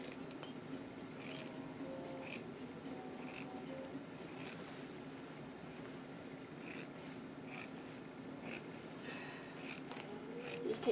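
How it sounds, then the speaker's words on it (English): Scissors cut carefully along a dotted line through fabric for a cosplay skirt, giving quiet, intermittent snips over a faint, hushed room background. "I'm going to cut along my dotted line with my scissors."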